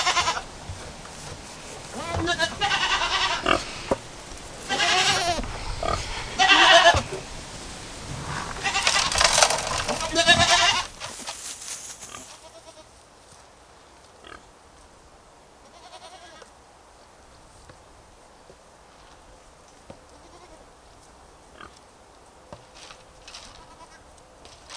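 Several goats bleat loudly and repeatedly in the first half while being fed a muesli mix at an enclosure, then things quiet to faint rustling and occasional soft sounds; a person talks at times.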